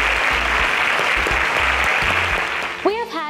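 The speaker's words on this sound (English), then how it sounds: "Let's give them a deserving round of applause." Dense, loud audience applause fills a student competition event in Kenya, holding steady throughout before tapering as a few tonal, rising sounds cut in near the end.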